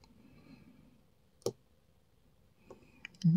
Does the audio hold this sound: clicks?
yes